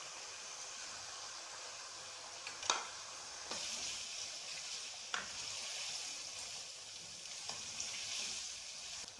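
Chicken sizzles in oil with ginger garlic paste for haleem, a soft continuous frying hiss broken by several sharp clinks and scrapes of stirring, heard alone.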